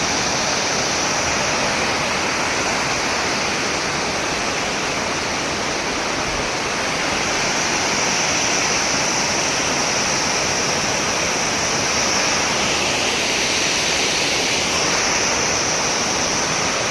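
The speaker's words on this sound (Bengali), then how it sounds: "জল এখানে সেভ করে এখান দিয়ে বয়ে যাচ্ছে ওয়াটারফলসের জলটা" A waterfall near Kandahar pours in a loud, steady, unbroken roar of rushing water, close by and alone.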